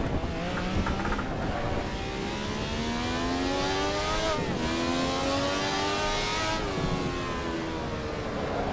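A high-pitched Ferrari 312T Formula racing car engine in the Assetto Corsa video game at the Nürburgring screams and revs through gear changes, the pitch climbing and dropping repeatedly, loud and continuous with no talking.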